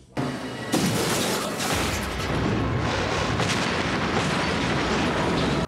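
A huge explosion in an action film: a sudden, loud roaring blast that swells and holds as a dense, rumbling wall of noise for several seconds.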